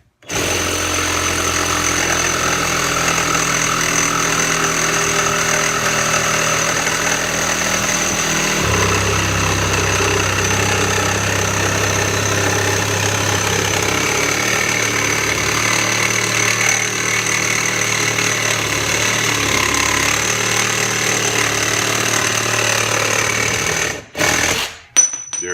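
Kimo 20V cordless one-handed reciprocating saw cutting through pipe held in a vise, a loud, sustained buzzing rasp that shifts in pitch partway through and stops near the end with a few clunks.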